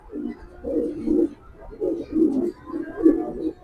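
Big-sized female Babari pigeons coo close by in a series of about four low, rolling phrases separated by brief gaps.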